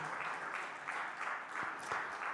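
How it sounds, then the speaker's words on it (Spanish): A church congregation claps for Christ in a continuous, moderately loud round of applause with a rhythmic pulse, as if clapping along together. "Denle otro aplauso a Cristo el Señor"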